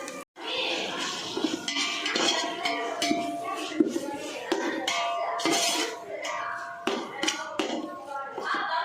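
Ginger garlic paste stirred in a pot for a large beef biryani, with busy metal spoon scraping and clinking against the pan, close and irregular, a voice speaking partly over it.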